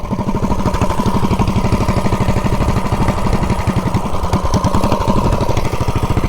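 A ported 420cc minibike engine fitted with a Volts sprocket runs loud and close, its rapid, steady firing pulses chugging without a break and no one talking over it.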